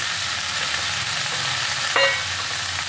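Chopped pointed gourd is tipped into prawns frying in oil, giving a loud, steady sizzle with a brief clatter as the pieces drop in.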